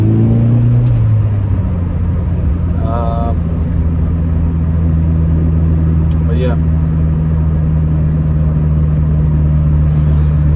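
A tuned car engine drones steadily while driving, a low constant rumble close by inside the cabin, with someone talking briefly over it.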